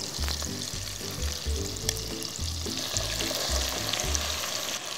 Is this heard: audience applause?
no